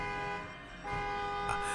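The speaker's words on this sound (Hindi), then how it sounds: "हॉर्न बजाया" A truck horn sounds steadily on a night highway, a sustained tonal honk running through the whole moment with a slight swell near the end and no voices.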